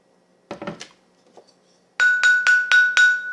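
A glass partly filled with water is struck and rings with a clear pitch. A few quick taps come first, then a run of five bright, ringing strikes in an even rhythm, each sustaining a steady tone.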